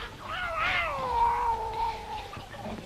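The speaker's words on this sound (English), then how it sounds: "Those cats." A cat gives a long, drawn-out meow that rises and then slowly falls, clear and fairly close against a quiet background.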